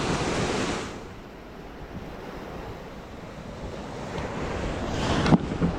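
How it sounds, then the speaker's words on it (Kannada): Sea waves rolling onto the beach at Kasaragod, a broad continuous roar of surf mixed with wind buffeting the microphone, swelling loudly at the start and again near the end. "ಅಲೆ"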